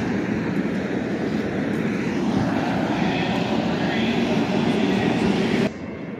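Loud, steady rumble and roar of an Amtrak Capitol Corridor four-car passenger train with cab car rolling into Oakland station close by, broadband and continuous, cutting off abruptly near the end.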